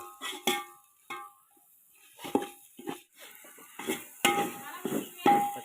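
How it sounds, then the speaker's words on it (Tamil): A spoon scrapes and clinks against a cooking pot while mutton biryani masala is stirred, giving short, irregular metallic knocks with quiet gaps between them. "நல்லா கிண்டி"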